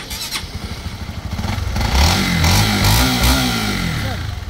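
A Honda CBR motorcycle, Indonesian version with dual-channel ABS and an untouched engine, runs close by with a steady rumbling engine note that swells slightly mid-way, heard alone without talk.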